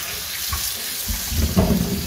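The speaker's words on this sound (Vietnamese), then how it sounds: "bây giờ mình sẽ mang ra đây mình tráng với nước sạch nhé" Clean running water from a tap splashes over fruit being rinsed in a basin. The flow is close and continuous and swells louder toward the end, with no voices.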